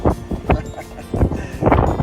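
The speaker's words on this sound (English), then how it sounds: "It is just a little bit windy here." Gusty wind at Port Denison, Western Australia, buffets the microphone in rough, low rumbling bursts that rise and fall over a couple of seconds.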